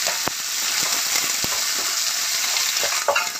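Onion hits hot mustard oil with cumin seeds in the pan, giving a steady, loud, close sizzle, with a few sharp spatula taps and crackles scattered through it.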